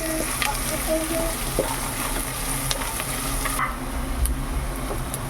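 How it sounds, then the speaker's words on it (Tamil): Onions sautéing in a pan for tomato rice, a continuous close sizzle with occasional stirring clinks and scrapes. "நல்லா வதங்கட்டும்."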